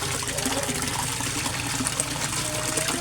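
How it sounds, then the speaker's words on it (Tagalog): Water bubbling steadily in a koi fish pond, a dense continuous gurgle and splash of aerated water close by, with no voices. "Sa sobrang lakas niya, ang daming bubbles na naproproduce niya"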